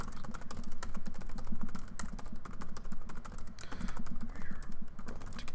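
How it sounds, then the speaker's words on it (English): Rapid, steady typing on a computer keyboard, close and continuous soft clicks over a faint background hum, with no talking. "Sorry about the silent typing here, folks."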